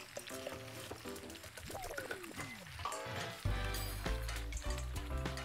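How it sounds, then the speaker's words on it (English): Plantains frying in oil in a pan, a steady sizzle with clinks and stirring, growing louder near the end. "So I'm going to allow them fry a little bit before I pour the peppers in."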